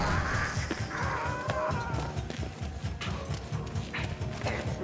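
Rapid rhythmic hoofbeats of a galloping horse in Warhammer: End Times - Vermintide, continuous and fairly close, with scattered clattering and background game noise.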